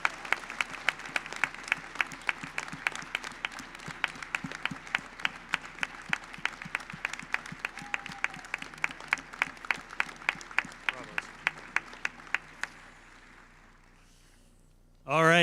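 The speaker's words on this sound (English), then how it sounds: "Let's give him another round of applause," Audience applause at a university commencement ceremony honoring the Class of 2025, with steady crowd clapping filling the hall for about twelve seconds before tapering off into quiet.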